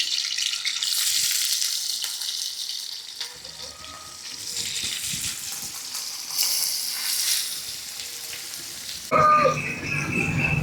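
Paneer pieces frying in melted ghee for a cashew paneer masala, a steady close sizzle with occasional stirring and a brief louder crackle near the end.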